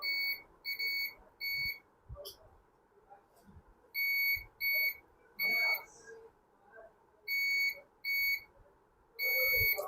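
A sharp electronic beep sounds in short repeated bursts, about eight over ten seconds, while an e-rickshaw controller's gates are tested with a meter, over faint workshop background.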